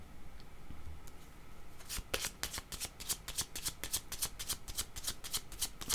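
Tarot cards are shuffled close up in a quiet room, starting with soft handling, then a rapid series of crisp riffling flicks.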